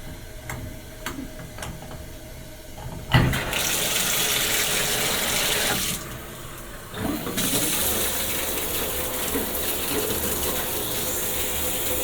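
A hotel shower head is turned on after a few ticking clicks and sprays a strong, steady hiss of water at close range. The spray changes briefly midway, then resumes with no talking.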